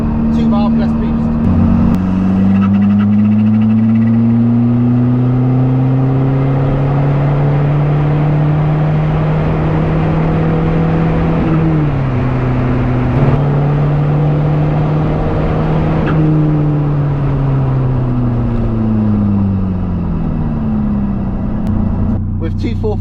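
Diesel-swapped Toyota MR2 running under turbo boost, a loud steady engine drone heard from inside the car whose pitch climbs, dips briefly at gear changes and rises again, with someone talking over it.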